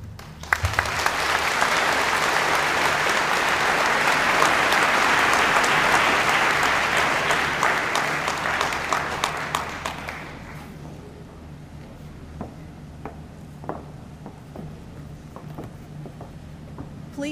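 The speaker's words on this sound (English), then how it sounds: "Please hold your applause." A large commencement audience breaks into sustained, dense applause that swells for about ten seconds, then thins to a few scattered claps.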